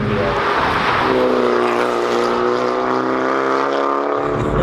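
A 400bhp Mini GP3 race car engine revs hard and loud, a sustained climbing roar with strong harmonic whine that holds steady before dropping off at the end, close by with no talk.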